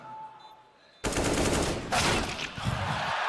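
Rapid bursts of AK rifle fire in a Counter-Strike match at IEM Katowice 2019, loud and sustained with a second volley partway through, following a quiet lead-in.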